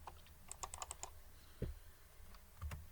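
Quiet computer keyboard typing of a chart title in a spreadsheet, a quick burst of close, light key clicks, then a pause and a couple of soft thumps, no speech.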